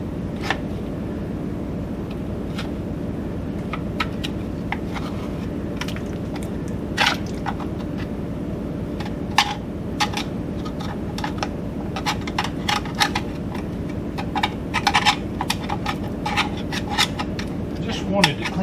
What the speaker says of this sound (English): Just wanted to clean the back of the motor off so I didn't get grease on my shirt every time I walk by it.